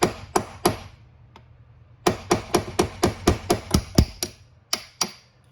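Metal hammer blows on a tool set over a bolt during bus seat removal: three quick strikes, a lone tap, then a steady run of about a dozen evenly spaced ringing hits, close and loud.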